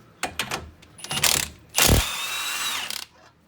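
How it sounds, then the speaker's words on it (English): A factory 21 mm tie rod end nut being removed on a 2001-2004 Dodge Dakota, with close, sharp ratchet clicks in short bursts followed by a longer, louder whirring run of the tool that ends in a few rapid clicks. "You got to remove the tie rod end nut, which if it's OEM, it should be a 21 millimeter."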